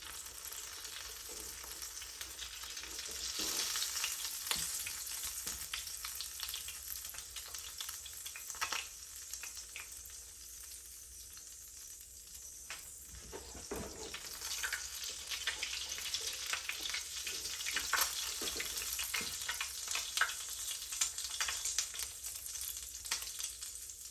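Bacon grease frying and sizzling in a pan while cooking for Southern cornbread, a steady close crackling hiss with occasional louder pops and spatters throughout.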